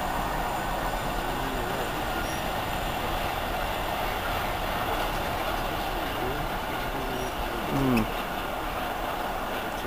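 A Freightliner freight train rolls past Manningtree station in a steady, loud rumble with wheel and wagon clatter throughout, and a voice speaks faintly beneath it.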